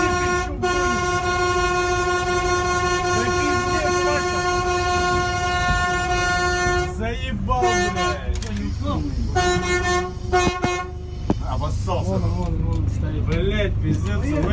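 A train rolls along the tracks beside a truck, its horn sounding long sustained tones near and loud, then breaking into clattering rail noise and shorter honks, with talk over the top.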